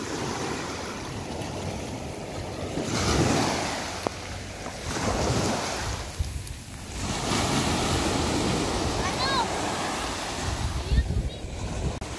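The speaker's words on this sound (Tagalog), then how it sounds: "Malalaki yung alon ng dagat" Large sea waves wash and roll in at Candelaria beach, a broad continuous surf roar with wind buffeting the microphone and a brief lull midway.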